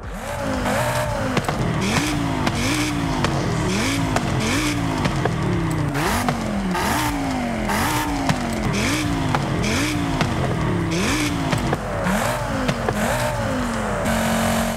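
An Audi TT RS fitted with an optional exhaust in the racing game Forza Horizon 5 revs through repeated gear changes, its engine note climbing and dropping in a steady cycle, loud and close, with tire noise under it.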